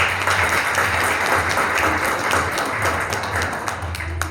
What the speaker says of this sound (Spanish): le pido un aplauso para él.